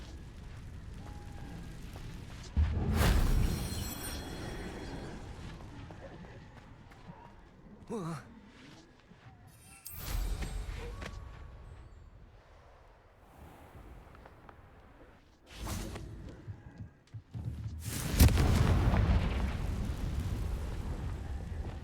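A Confringo blasting spell explodes in Hogwarts Legacy, a loud booming burst with a rumbling tail, followed by further bursts over the next seconds, with a player's voice in between.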